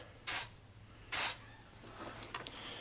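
Compressed air hose blowing out the AC condenser of a 1989 Ford F-150 during an R12 to R134a conversion, two sharp loud bursts of hissing air followed by faint rattling.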